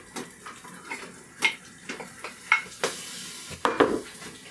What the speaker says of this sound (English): So now I'm going to add in the blueberries.